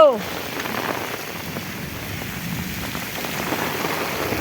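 Heavy rain pours down on the village of Vejalka in Ranpur taluka, Botad district, a dense, steady hiss of drops close by with no distinct thunderclap heard.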